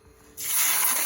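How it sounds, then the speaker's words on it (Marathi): Chopped onion hitting about two spoons of hot oil in a pan, a sudden loud hiss that bursts in after a quiet start and holds as a steady close sizzle. "तेल गरम करायला ठेवलं होतं 2 चम्मच। आता मी ह्याच्यामध्ये कांदा आणि हे सर्व टाकते"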